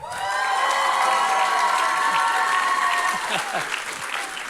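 A congregation at a church summer camp's closing service bursts into loud, dense applause and cheering that holds steady, then tapers slightly toward the end.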